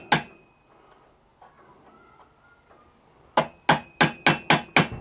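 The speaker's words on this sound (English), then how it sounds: "First thing to do is try and centre pop it as near the middle as you possibly can" A hammer taps a centre punch on a snapped stud, a first sharp strike followed after a pause by a quick run of six evenly spaced, loud metallic taps close by.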